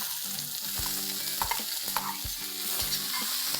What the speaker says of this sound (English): now I'm going to add 4 medium-sized onions that I have finely chopped